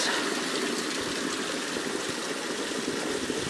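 Water rushes down a small waterfall on an old creek, a close, constant, hissing splash with no breaks and no talk.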